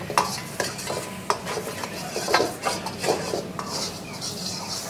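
Onion and capsicum being stir-fried with soy sauce in a pan for dragon chicken, a spatula scraping and clinking against the metal in irregular strokes over a soft sizzle, close and alone.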